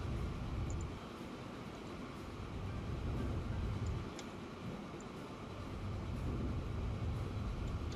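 Train from the Transport Fever game rolling steadily along the track, a continuous low rumble with gentle swells in loudness, no talk over it.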